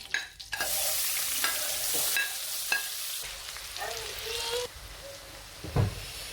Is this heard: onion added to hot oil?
yes